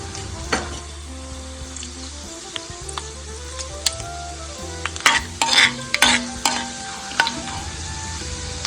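Urad dal and chana dal frying in a pan, with scattered crackles and sizzles, scraping stirs and a few clinks of a utensil against the pan over a low steady hiss, close and alone.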